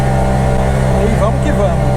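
A Puma GT with a two-stroke engine runs in a steady, loud, buzzing drone, held at high revs from start to finish, while someone talks over it.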